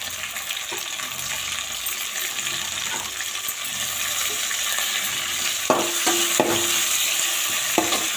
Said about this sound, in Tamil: வெங்காயம் பூண்டு வதங்கினதுக்கப்புறம் ரெண்டு பச்சை மிளகா அதுக்கப்புறம் ரெண்டு தக்காளி